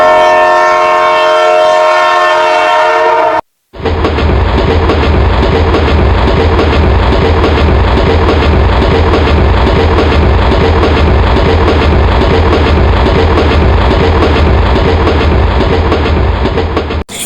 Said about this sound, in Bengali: এই তো ট্রেন চলে আসছে, দূরে থেকে দেখো ট্রেন দেখা যাচ্ছে।